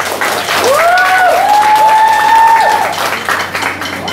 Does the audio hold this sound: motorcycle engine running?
no